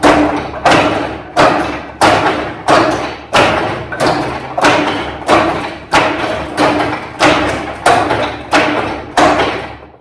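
Steady, rhythmic wooden thuds, about two per second, as Wing Chun strikes hit a wooden training dummy up close with no voices.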